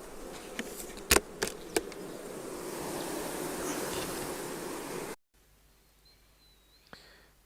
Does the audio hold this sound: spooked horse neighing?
no